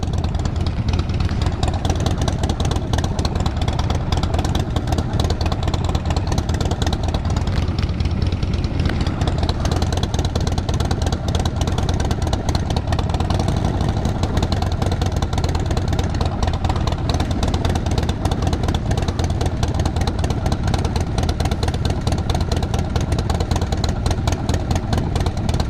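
A Triumph SS 900 motorcycle engine runs steadily at gentle cruising speed in a motorcycle escort, its continuous mid-pitched drone loud and close throughout with no speech.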